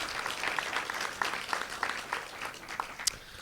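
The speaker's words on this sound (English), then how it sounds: "Let's give it a round of applause for these good public servants." A crowd claps steadily in a room, a dense patter of many hands at moderate volume with a few sharper claps standing out.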